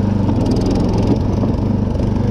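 A quad bike fitted to mow a lawn runs steadily close by, a loud continuous engine drone with a throbbing low rumble that never lets up.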